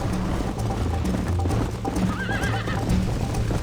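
Horse hooves clip-clopping steadily during a ride in Red Dead Redemption, a close, continuous trotting rhythm over an ambient outdoor bed, with brief neighs and whinnies.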